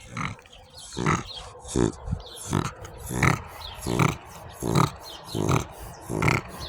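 A bully-breed bulldog makes rhythmic snorting grunts, about nine regular wheezy bursts spaced evenly, close and moderately loud, with no talking.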